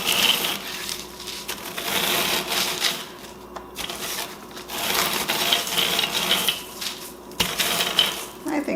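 Cookies being crushed into coarse crumbs for a pumpkin cream pie crust, a loud, continuous crunching and grinding with rhythmic rasping strokes close by, broken by a few brief pauses.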